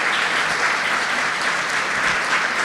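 A church congregation applauds, a dense, loud and steady wash of many hands clapping together without pause throughout.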